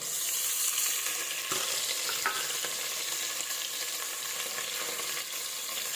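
Ginger garlic paste and curry leaves fry in hot oil, giving a dense, close hiss and sizzle with a few sharp spatters and stirring knocks, steady throughout and free of speech.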